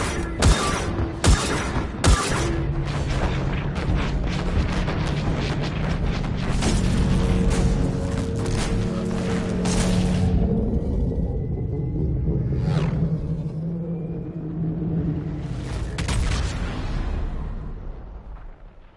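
Rumbling booms and bursts of blasts from a ship exploding in Mass Effect 3, dense at first with sharp hits, then a long low roar and whooshing swells as a craft takes off from the exploding ship.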